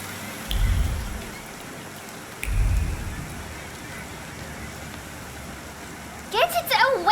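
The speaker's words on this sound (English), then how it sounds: "And now it starts to rain." Steady rain in the video game The Thaumaturge hisses throughout with a couple of low rumbling thumps, and a voice briefly breaks in near the end.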